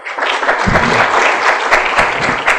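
Audience applause at a talk on the origin and building of the Mozambican state, loud and dense clapping filling the whole stretch with a few sharper claps and some low rumble beneath.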